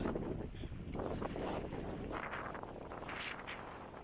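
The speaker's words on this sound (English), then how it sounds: "it's already getting windy" Gusting wind above tree line in the Presidential Range buffets the microphone with loud, rumbling rushes that swell and fade, close and unsteady.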